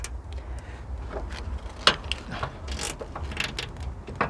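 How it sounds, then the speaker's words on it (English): A ratchet clicks in short bursts while loosening the door hinge bolts on a Mitsubishi 3000GT, close and fairly quiet, with a few sharper metallic knocks between the runs of clicks. "first of all loosening the 4 bolts. There are 2 per hinge"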